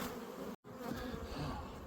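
Dense, steady buzzing of many honeybees around a flow hive on a ranch, loud and close, broken by one very short dropout.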